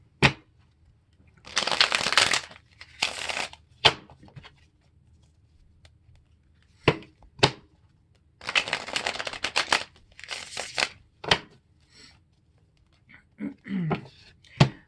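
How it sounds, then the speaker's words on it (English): Tarot cards being shuffled by hand, several bursts of riffling and flicking separated by quiet pauses and sharp single taps, close and fairly loud with no talking. "I forgot how to shuffle in the last 30 minutes."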